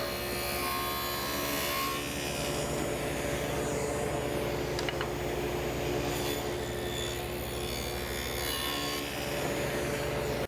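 Table saw with a dado blade cutting wooden rails for a storage cabinet, a steady loud whirring grind that runs unbroken through the whole stretch, with no talking.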